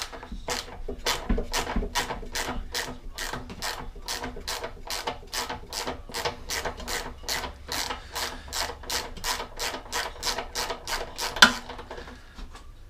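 A ratchet spanner undoes the locking nuts on a Hayter Harrierette lawn mower with a long, steady run of about thirty quick, evenly spaced metallic clicks, close up and with no talking.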